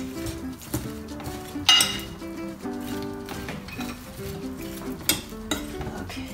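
Chicken yassa with mustard is stirred in a pot, giving steady scraping and sizzling with occasional sharp clinks of a utensil against the metal, close and continuous.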